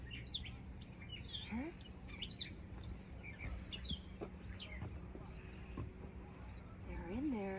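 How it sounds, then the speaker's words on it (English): Small birds chirp from a bamboo thicket in a park: scattered, faint tweets and short calls come from a distance over outdoor background noise, with a brief spoken voice. "there are some birds that are living in there."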